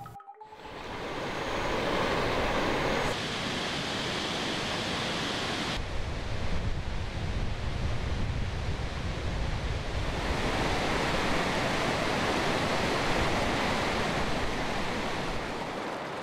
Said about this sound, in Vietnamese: Nước từ trên cao cứ thế đổ xuống như bất tận